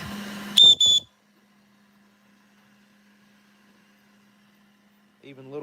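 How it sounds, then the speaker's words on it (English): A small 3D-printed whistle gives two short, shrill blasts near the start, then a long near-silence follows before a voice begins speaking at the end. "there's all kinds of whistles that you can print on there."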